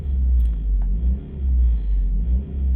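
A Ford Focus engine idles with a low, steady rumble, close and fairly loud, swelling gently a few times as it keeps running.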